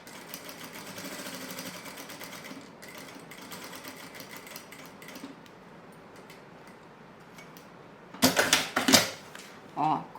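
A sewing machine stitches a seam with a half-centimetre allowance on a fabric toiletry pouch. It runs as a steady, fast mechanical whir for a few seconds, then softer patches follow, and a few sharp, louder bursts of stitching come near the end.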